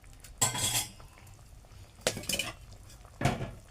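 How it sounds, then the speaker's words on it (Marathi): A spoon stirs valpapdi bhaji in a cooking pot, giving three separate scraping, clinking strokes with quiet gaps between them, close and moderately loud. "आपण आता ढवळून घेऊ परत"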